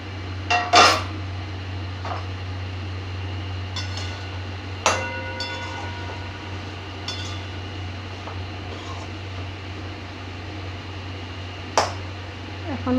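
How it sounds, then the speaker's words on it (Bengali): A metal lid is lifted off a cooking pot of boiling vegetables, giving a few sharp clinks and clanks spread over a steady low hum, with quiet stretches between them. "এইবার আমি ঢাকনাটাকে খুলে দেব।"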